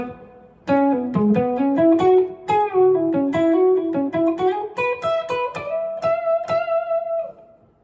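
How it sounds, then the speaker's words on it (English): Electric guitar plays the major pentatonic section of a solo, a quick run of picked single notes ending on a held note, close and solo with no voices. "Now we're into the major pentatonic portion of the solo."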